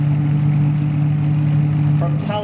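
Ferrari 599XXT supercar in a parade on the lawn at Salon Privé 2025, giving a steady, loud, low engine drone close by, with voices breaking in over it near the end.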